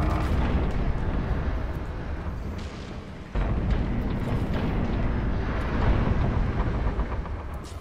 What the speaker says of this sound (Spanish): Y aquí, el petardo de Wilhelm